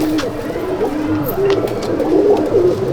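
Pigeon cooing inside a racing pigeon loft, several soft repeated coos close by over a low background murmur.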